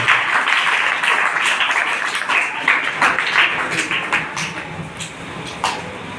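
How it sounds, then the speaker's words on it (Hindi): Listeners at a children's poetry competition in Kilkari Bal Bhawan, Bihar, clap loudly to welcome guests, a dense, rapid burst of hands that gradually thins toward the end. "एक बार जोरदार तालियों से स्वागत करें"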